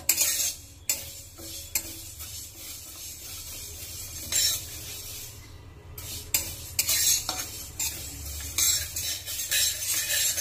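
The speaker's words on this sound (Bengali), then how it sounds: "তো ততক্ষণ ডালটা ভাজবো" Sona moong dal being dry-roasted in a pan is stirred constantly, giving repeated scraping strokes of a spatula against metal with a soft sizzle underneath, close and steady throughout.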